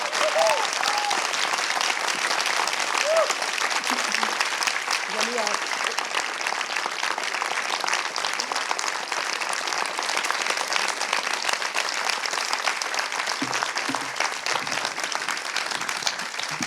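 Audience applause welcoming actress Isabelle Huppert on stage, loud sustained clapping from a large crowd throughout, with voices faintly audible beneath it.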